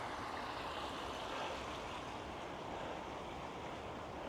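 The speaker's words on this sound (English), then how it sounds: "This is Pendlebury Brook, or Pendle Brook." Pendlebury Brook, a stream near St Helens, rushes with a constant broadband wash of flowing water, fairly distant and even, with no voices over it.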